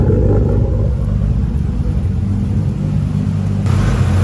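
A Nissan R34 Skyline's engine running on E85 after a turbo conversion, a loud, deep, steady idle rumble close by, with no talking.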